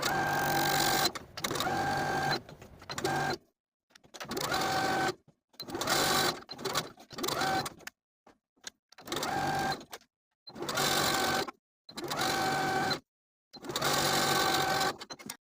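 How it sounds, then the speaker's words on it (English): Sewing machine edge-stitching along the front edge of a wrap skirt, running in about eight close, loud bursts of a few seconds each, separated by short silent pauses at turns. "pivoting at the point to sew all the way across that front edge and down to the bottom of the skirt."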